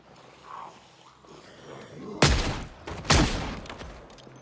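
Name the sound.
gunshots in video game Project Zomboid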